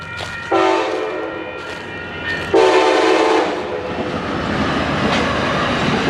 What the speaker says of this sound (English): and a train's coming again.